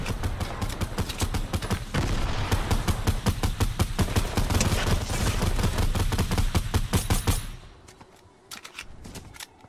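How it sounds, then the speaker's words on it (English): Rapid volleys of explosive grenade launcher fire in Fortnite, loud and dense bursts with repeated sharp thumps for several seconds, then thinning out to a few scattered shots near the end. "The grenade launcher."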